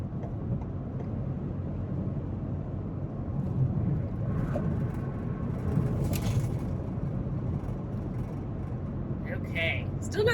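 A car drives through light morning commute traffic in Louisville, giving a steady, low road rumble throughout, fairly faint with little change.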